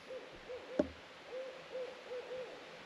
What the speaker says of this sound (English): that owl should be in bed right now because it's about 10 o'clock in the morning